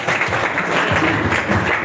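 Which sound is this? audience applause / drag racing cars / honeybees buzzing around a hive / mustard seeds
audience applause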